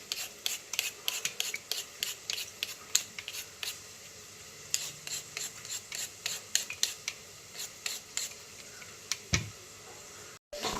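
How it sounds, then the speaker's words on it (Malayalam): Carrots and potatoes being peeled with a hand peeler: quick, repeated rasping scrapes in a steady rhythm, close and clear, with no talk. "നമുക്കെല്ലാം പെട്ടെന്ന് പീൽ ചെയ്തെടുക്കാം."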